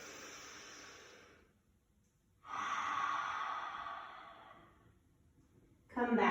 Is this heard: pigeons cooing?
no